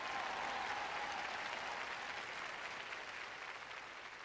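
At a French-language Christian sermon, a large congregation applauds in a dense, continuous wash of clapping that fades slightly toward the end.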